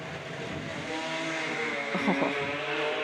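A drag race car at the Jamboree in Brisbane stays on the throttle during a run. The engine noise is distant and roaring with a brief rise in the middle, heard under faint crowd and ambient noise.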